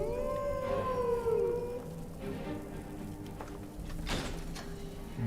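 Wolves in the Skyrim video game howl in a long, wavering rising-and-falling cry near the start, over a low rumbling game ambience with faint thuds later on.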